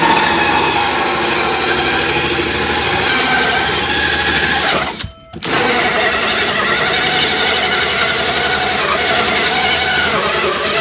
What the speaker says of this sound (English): just get your 4 1/8 inch hole saw and just open up this hole